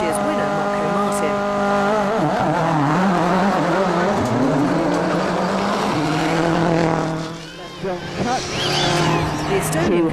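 Peugeot rally car revving and pulling away from the start line of a stage at Rally Mexico 2005, a loud, close engine with rising and falling revs that fades slightly near the end.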